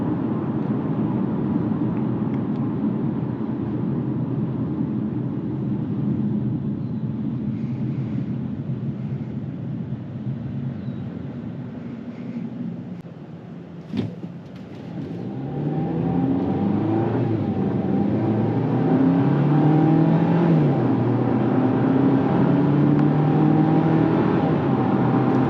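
A 2024 Jeep Compass Latitude 4x4 with the Altitude package cruises at highway speed, a steady cabin drone of engine and road noise with a brief thump near the middle and the tone rising slightly afterward.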